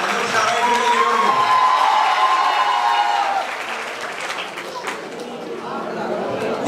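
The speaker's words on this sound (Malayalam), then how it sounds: "നല്ലൊരു ഉഷാറായിട്ട് കയ്യടി കൊടുക്കും." Enthusiastic audience applause at a college event for a film's promotion, with dense clapping mixed with cheering and crowd voices, loud and sustained before easing slightly toward the end.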